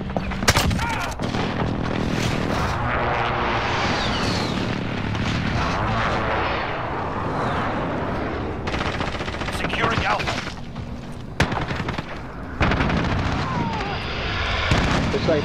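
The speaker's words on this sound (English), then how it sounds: "Allies precision airstrike in." Precision airstrike explosions and gunfire in a military shooter video game, a loud sustained barrage of booms and rapid shots with sharp bursts and brief lulls, with voices calling out over the din.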